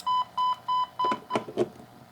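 Repeated beeping tones from a BondingBuddy universal far end device on a telephone line during resistive fault locating, four even beeps then shorter tones stepping downward in pitch, clear and close.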